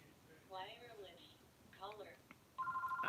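A telephone ring cuts in near the end, a steady electronic warble that follows a few stretches of speech and rises clearly above the quiet background.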